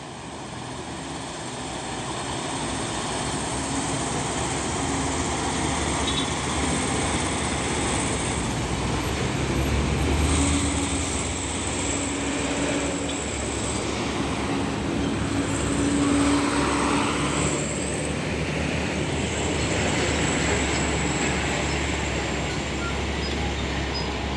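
Heavy trucks, including a Hino 500 and an orange truck, roll past on a dusty road, a steady broadband roadway roar that swells and fades around the middle of the stretch, with no clear talk.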